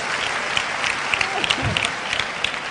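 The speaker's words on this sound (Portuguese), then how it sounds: "Palmas para o nosso amigo." A room full of people applauds a friend during a gathering. The clapping is dense and steady and lasts the whole stretch, with a faint voice now and then under it.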